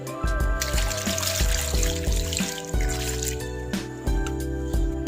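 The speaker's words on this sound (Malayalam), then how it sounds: "ഇനി കുറച്ച് വെള്ളം ഒഴിച്ചു കൊടുക്കണം." Water poured into a cooking pot in a home kitchen, a steady trickling stream under light background music, continuous for several seconds.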